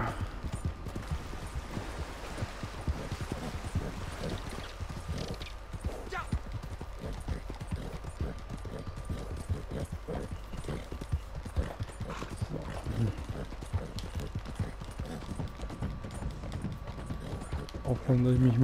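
Hooves clip-clop in a fast, steady galloping rhythm as a horse is ridden in Red Dead Redemption 2 Online along the Dakota River, with light game ambience and occasional talk over it.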